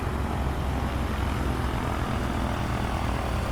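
Piper 28 Dakota propeller engine in Microsoft Flight Simulator, a steady, loud, continuous drone with no change in level, heard close and alone without any talk over it.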